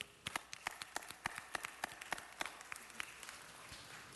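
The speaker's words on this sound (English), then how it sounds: "Let's give him another round of applause." A few people clap at a city council meeting, a sparse, quiet patter of distinct individual claps spread across about four seconds in a reverberant room.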